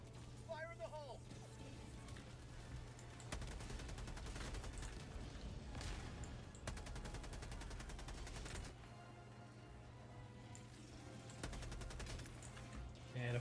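Continuous gunfire in Helldivers 2 combat, rapid overlapping shots and bursts forming a dense, loud barrage with game voices and talk mixed in.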